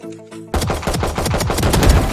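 Video game gunfire bursts loud and close in rapid automatic volleys after a short tonal musical lead-in, with dense repeated shots filling the rest of the moment.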